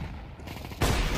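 A gunshot in an online shooter game fires as one sudden loud burst that cuts in partway through and keeps ringing to the end, with a steadier game soundscape underneath before it.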